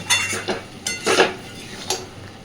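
Curry being stirred with a pinch of garam masala in a pan, a spoon scraping and knocking against the metal in several close, rhythmic strokes with a soft sizzle underneath.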